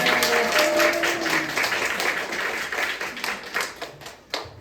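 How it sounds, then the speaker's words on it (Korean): A retreat lecture audience claps loudly and densely, the applause gradually thinning toward the end with a few last distinct claps. "박수, 박수, 진짜."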